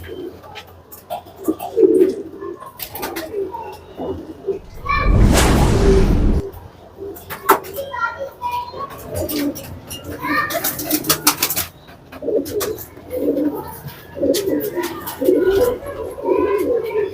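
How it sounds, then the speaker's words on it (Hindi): Large-sized Kalsara pigeons cooing in a loft, soft repeated throaty coos throughout, with a loud rustling burst of wings midway and people talking intermittently in the background. "यहाँ पर जो कलसरे कबूतर हैं, और ये सब बड़े साइज की कबूतर है"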